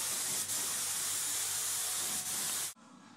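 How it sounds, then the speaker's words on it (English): Mold release is sprayed onto a mold in a steady, loud aerosol hiss, with a brief break near the start and a dip later, before it cuts off abruptly into quiet room noise. "spraying mold release"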